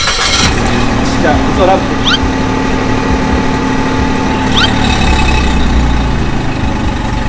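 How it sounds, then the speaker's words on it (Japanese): A new Suzuki Swift's engine hums at a steady idle beneath close speech, with a low constant rumble through the whole clip. "エンジンかけます"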